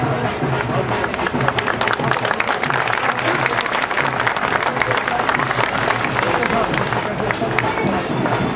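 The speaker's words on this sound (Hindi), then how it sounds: "जोरदार तालियों से" A large audience at a Delhi Congress event marking Babasaheb's death anniversary breaks into loud, sustained applause, dense clapping that fills the whole stretch without pause.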